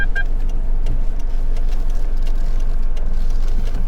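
A car creeping out of a space during a beginner's parking lesson, its engine a steady low hum and road rumble that stays close and even throughout, with no voices.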